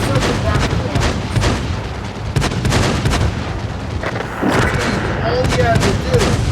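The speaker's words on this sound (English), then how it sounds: "This is two separate rocket launchers." Rocket launchers fire in World of Tanks, a dense, loud barrage of booming blasts and crackling impacts in rapid succession, with game battle noise filling the background.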